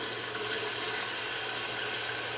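Water poured into a pot of apples for homemade applesauce, a steady broadband wash of running liquid at moderate, even level, close by and continuous with no speech over it.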